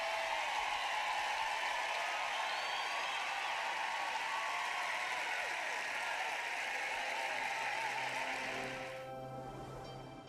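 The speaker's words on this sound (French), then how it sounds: "Applaudissons à Dave" Audience applause at a French-language church sermon, dense sustained clapping from a large crowd that holds steady for about nine seconds before fading away.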